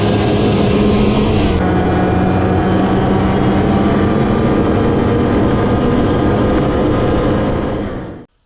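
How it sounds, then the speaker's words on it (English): A twin-cylinder Rotax 294cc two-stroke engine in a small off-road tracked mini tank runs loud and steady at close range for several seconds, then winds down and cuts out at the end. "This is a twin-cylinder Rotax 294cc."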